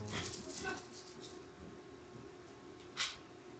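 A dog in a room gives faint whimpering yips and a short bark, quiet and intermittent over a low background, with a brief louder sound near the end.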